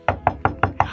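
Five sharp, evenly spaced knocks hit a door in quick succession, close and loud, with no talking.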